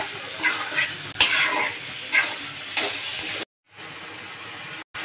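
Mutton fat sizzling in a pan while being stirred, with a steady frying hiss broken by scraping strokes and a couple of brief silent gaps.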